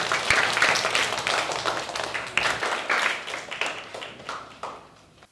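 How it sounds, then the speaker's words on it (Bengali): A classroom of children claps their hands together in a dense burst of overlapping applause that holds steady, then thins and fades toward the end. "চলো আমরা সবাই হাততালি দিই।"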